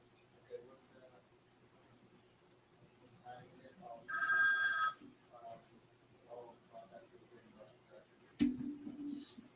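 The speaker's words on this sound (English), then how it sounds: "There goes the phone" A telephone rings once with a bright electronic trill in a dispatch office of a logistics business, heard under quiet talk before and after, followed by a sharp thump.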